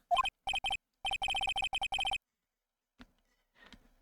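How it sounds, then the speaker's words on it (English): A phone rings in Ace Attorney: Justice for All, sharp electronic chirps in quick repeated bursts that stop after about two seconds, followed by a short click and a faint blip. "she also received a phone call from the owner of the phone."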